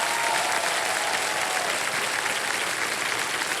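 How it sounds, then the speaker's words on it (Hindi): A studio audience on the game show Kaun Banega Crorepati claps continuously, a dense, even wash of applause filling the whole clip. "तालियां बज जाए"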